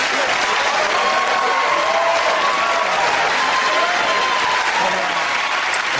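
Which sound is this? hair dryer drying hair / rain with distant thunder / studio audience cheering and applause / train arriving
studio audience cheering and applause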